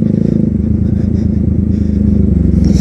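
A Bullet motorcycle engine running close and loud, a steady, deep, thumping throb that holds even with a slight rise near the end, and no voices.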